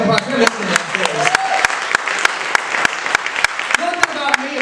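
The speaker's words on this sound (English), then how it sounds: "Give them a big round of applause." An audience claps at a Baltimore storytelling event, sharp hand claps rattling on throughout while a voice speaks over them.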